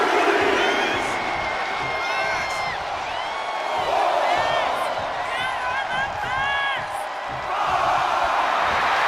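A wrestling arena crowd in a WWE video game simulation roars continuously, with rising whoops and whistles cutting through the steady loud cheering.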